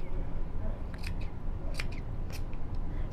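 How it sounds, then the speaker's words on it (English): Scissors snip the corner of quilt fabric while making a rag quilt from a fabric panel, with three or four short crisp cuts over a low steady background hum. "And then I'm just going to snip."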